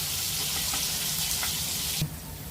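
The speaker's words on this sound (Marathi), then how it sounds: "आपण हे आता जे आपण शिमला मिरची कट केली ती छान अशी तेलात फ्राय करणार आहे" Sliced bell pepper (capsicum) frying in hot oil in a pan for a paneer masala: a steady, close broadband sizzle that runs throughout and drops slightly near the end, with no one speaking.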